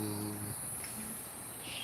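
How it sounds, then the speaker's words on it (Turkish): Crickets chirp steadily in the background at a hillside viewing terrace in Alanya, Turkey, a thin high trill running through the whole clip amid faint outdoor noise. "Cırcır böcekleri de çok güzel ötüyor."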